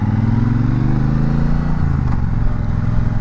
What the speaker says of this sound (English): So I'm gonna be doing some riding on this motorcycle and mostly around town stuff.